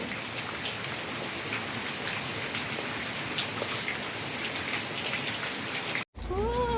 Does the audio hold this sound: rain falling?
yes